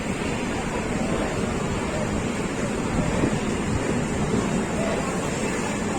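Steady broadband noise like light rain and wind rushes past continuously while riding an Indian express train near Prayagraj Junction, even and unbroken throughout.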